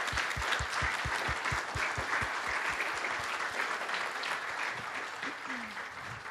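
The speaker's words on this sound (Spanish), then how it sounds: "Vamos a brindar un aplauso." Sustained applause from an audience at a 2015 event on grape by-products, dense clapping throughout with a few sharp, rhythmic claps standing out close by in the first seconds.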